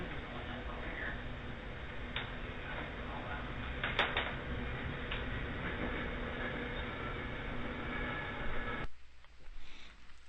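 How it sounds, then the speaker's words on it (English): A steady, heavy rumble of a passing train fills most of the clip, with a few brief metallic clicks, then it drops off abruptly near the end. "Down the very end, you are hearing a train going by."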